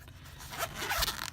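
A zipper with a small heart pull is drawn open along a floral pen case, making a close, scratchy rasping run that grows louder and ends in a few quick ticks, with no talking.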